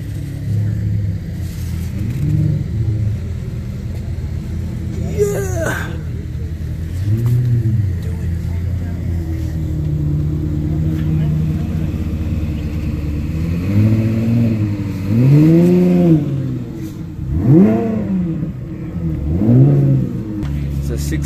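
A Honda J32A2 V6 swapped into a right-hand-drive EK Civic with a six-speed gearbox revs up repeatedly, rising and falling in swells over a steady idle rumble, with the revs getting sharper near the end.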